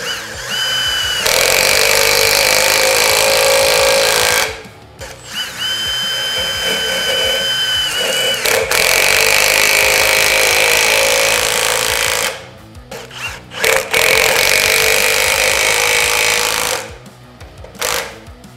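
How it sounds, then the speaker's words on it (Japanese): A Milwaukee M18 FUEL 1/2-inch impact wrench with a 13mm socket drives three M8 coach screws, each run a loud, sustained rapid hammering burst of several seconds, separated by short pauses. "13mm のソケットを使って M8 のですね、コークスクリューをですね、3本打っていきたいと思います。"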